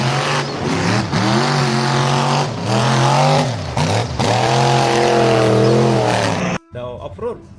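A toy monster truck's motor whines loudly and steadily, rising and dipping in pitch, then cuts out suddenly near the end.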